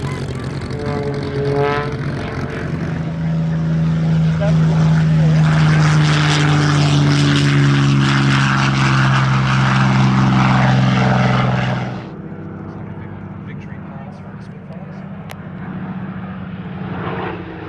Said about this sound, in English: 100 Squadron Spitfire Mark 8 Grey Nurse leads this pair's formation